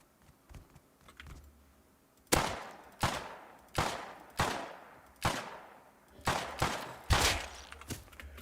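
Gunfire in the survival game Rust: a quiet lead-in, then about eight sharp, evenly spaced loud shots with short decaying tails, close and alone.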